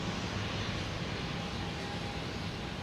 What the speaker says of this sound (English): Now we got the Banana, Spirit Airlines, an A321 heading to Fort Lauderdale.